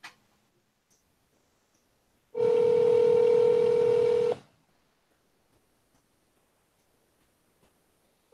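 A telephone line gives a single steady electronic tone that holds for about two seconds, with near silence before and after.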